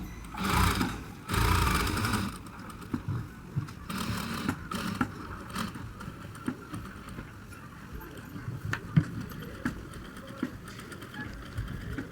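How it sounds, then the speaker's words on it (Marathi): A sewing machine stitches along a drawn bridal blouse back-neck line, opening with two loud bursts of running, then softer irregular clicking and short mechanical runs close by. "आता आपण जे ड्रॉ केलं आहे त्याच्यावर शिलाई मारून घेऊया."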